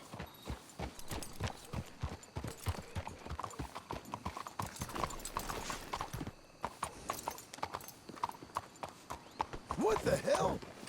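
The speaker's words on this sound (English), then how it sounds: "Let's hitch the horses up ahead." Horses in Red Dead Redemption 2 on Xbox One clip-clop steadily and close, hooves thudding under ongoing dialogue, with a whinny near the end.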